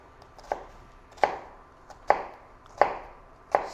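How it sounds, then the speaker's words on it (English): A knife slices through a halved onion on a chopping board in five sharp, evenly spaced chops, each a crisp close thud with a short tail and quiet pauses between. "we can cut the onion into half, and on the chopping board, the flat side goes on the chopping board. Then what you do, you can just slice it."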